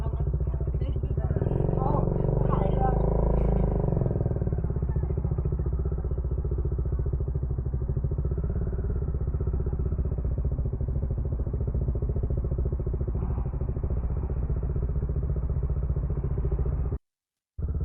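A Bajaj Dominar 400 motorcycle engine rumbles steadily throughout, with a rougher, louder stretch at the start and low clatter, heard close while riding along in Calatagan, Batangas.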